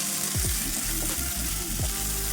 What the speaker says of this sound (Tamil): அதோடு சேர்த்து நல்லா கலந்து விட்டுருவோம்.